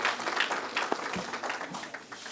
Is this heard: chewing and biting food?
no